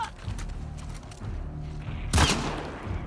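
Game gunfire in The Last of Us Part II: one loud, booming shot bursts out late after a stretch of low rumbling and scattered distant pops, then trails off.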